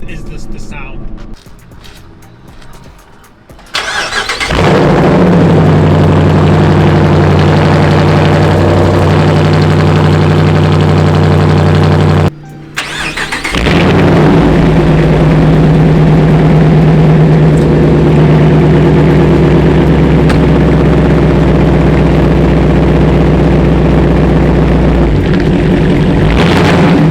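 A Ford Focus RS four-cylinder car engine idles loudly with a steady low rumble, briefly cutting out midway before resuming, close up.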